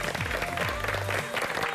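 Applause from a studio audience on a Korean television talk show, coming as a steady, even wash of clapping with faint voices beneath it.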